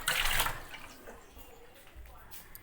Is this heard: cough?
no